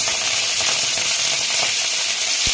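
Garlic and cabbage sizzle hard in a hot pan for Kolkata street-style chow mein, a loud, steady hiss with faint clinks and scrapes underneath.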